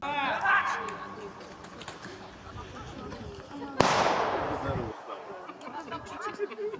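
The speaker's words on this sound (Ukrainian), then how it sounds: "Димові та шумові гранати, імітація ближнього бою, евакуація поранених." A stun grenade goes off during a combat training exercise with smoke grenades, one sharp loud blast with a rushing decay, while voices and outdoor chatter continue around it.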